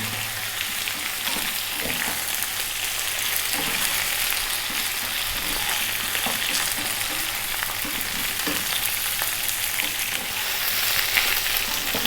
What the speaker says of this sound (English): And again, 3 minutes, stir frying this around.